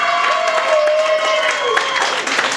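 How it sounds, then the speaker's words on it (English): A crowd applauding loudly and steadily at a live show aboard the Scarlet Lady cruise ship, with voices cheering and whooping through the clapping. "can we please get a big round of applause for this man on the stage right here?"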